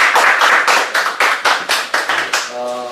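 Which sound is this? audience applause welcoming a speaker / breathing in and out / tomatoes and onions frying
audience applause welcoming a speaker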